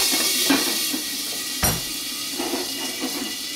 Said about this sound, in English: I'm just going to add some water to kind of steam it for me.